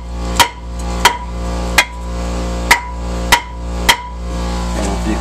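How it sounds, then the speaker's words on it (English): Six sharp metallic hammer taps strike the back of a cracked brake rotor on a GMC diesel pickup truck, spaced roughly evenly and ringing briefly over a steady low background hum. "now I'm just gonna tap on the back of this rotor."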